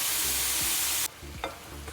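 Chicken pieces fry in a pan for Filipino chicken adobo, a loud, close sizzle that drops sharply in level partway through as a few quick stirring scrapes sound.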